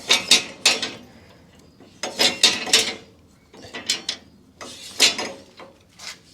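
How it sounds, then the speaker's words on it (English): A 17 mm wrench spins bolts onto an ARB winch bumper on a first-generation Toyota Tacoma, giving close, bursty metallic ratcheting clicks in several short runs separated by brief pauses. "So just stick the wrench in, this is a 17 millimeter,"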